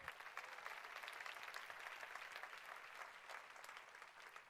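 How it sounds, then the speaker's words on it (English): Sustained applause from an audience at a Nu Skin business event, a dense wash of many hands clapping evenly, heard at a fairly faint level. "I think that deserves a big round of applause for Nu Skin"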